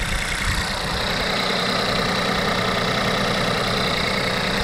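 Volkswagen T-Cross with a direct-injection engine idling under an open hood, giving a steady, close, diesel-like clattering rumble that holds an even level throughout.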